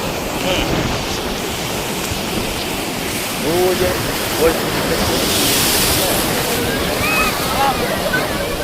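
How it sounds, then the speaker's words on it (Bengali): Water waves crash on a shore in a steady, loud broadband wash with gusts of wind noise, and a few faint chirps are scattered through it. "জলের বহু ঢেউ মারছে"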